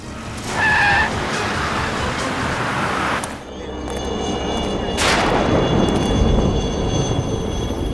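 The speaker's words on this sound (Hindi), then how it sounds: "सचिन गाड़ी रोको।" A car skids and brakes hard to a stop on a road during a tense crime-drama chase, a loud tire screech near the start giving way to a sustained rumbling engine and road noise.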